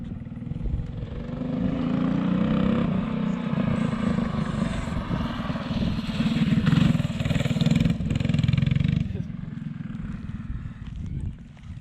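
A mini bike engine revs hard and continuously during a wheelie, a loud buzzing drone that swells and stays close, with people talking faintly underneath.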